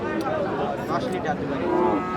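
A crossbred dairy cow moos nearby in a long, low, drawn-out call at a large cattle market in Dinajpur, with other farmyard noise in the background.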